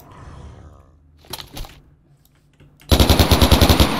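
A loud, rapid burst of AK-47 automatic rifle fire in Minecraft's Flan's Mod, about a dozen sharp shots in quick succession, preceded by faint rustling and a couple of softer thuds.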